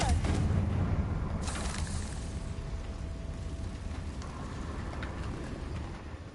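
Confringo blasting spell cast in Hogwarts Legacy: a sharp, loud blast near the start is followed by a second burst with a rumbling, crackling tail over a busy game background.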